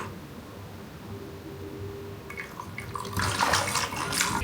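Water is poured over candles sitting in a container, a soft splashing trickle that starts partway through and grows louder and fuller toward the end over a low background hum.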